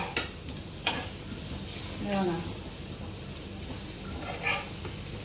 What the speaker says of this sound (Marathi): काप आपले मस्त आता आपल्याला पलटी करायचे आहेत बघा आणि पुन्हा झाकण द्यायचं आहे एकदम खरपूस असं तलायचं आपल्याला